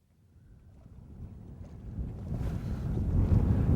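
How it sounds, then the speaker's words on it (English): Wind blowing across a lake while fishing for spring crappie from a boat, a low broadband rumble with microphone buffeting that swells steadily louder over the few seconds, no voices. "every time we get to a good spot, the wind picks up. Starts blowing."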